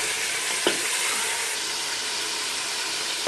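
Mutton fries with ginger garlic paste in a pot for a korma, giving a strong, even sizzle with an occasional knock of the stirring spoon and no talking.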